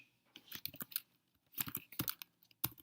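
Code being typed on a computer keyboard: quiet, close bursts of rapid key clicks in short irregular runs, with brief pauses between them.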